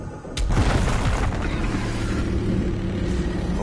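A loud rocket blast booms in a fast demon-slaying shooter game. After a sharp hit comes a dense, roaring rumble that holds steady and close for several seconds.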